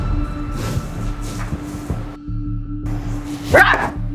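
A voice imitates a dog's barks: a few short yips and a louder bark near the end, over steady background music.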